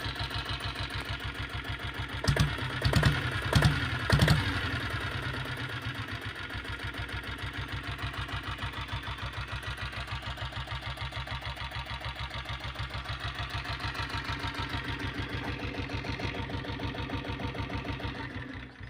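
A company-fitted diesel Bullet motorcycle with self start runs with a fast, steady thumping idle. A short burst of revs near the start brings a few louder knocks, then the engine settles back to an even chug.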